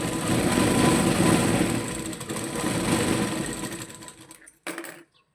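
A sewing machine runs a fine stitch to attach a 2-inch strip to a baby frock, whirring rapidly and steadily, slowing toward the end, then giving one short final burst before stopping.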